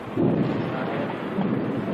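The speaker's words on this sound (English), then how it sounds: "a thunderstorm erupted" A thunderstorm breaks over Saigon in 1975 archival footage, a dense, steady rumbling roar mixed with rain hiss and wind, heard alone with no voices.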